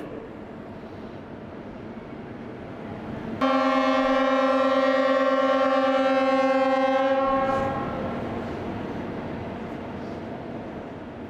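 Horns of Ukrainian locomotives sounding together in tribute, a loud sustained chord of whistles that begins abruptly and holds for about four seconds before fading into a lingering background hum.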